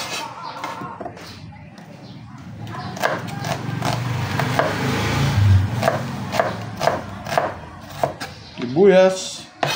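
Onions are chopped with a knife on a wooden board in a series of close, irregular thuds. A voice talks underneath the chopping, and a brief clatter comes near the end.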